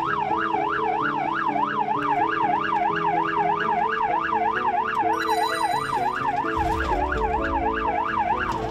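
An emergency vehicle siren wails steadily in a fast rising-and-falling pattern, loud and close, with traffic rumble beneath and a brief extra tone near the end.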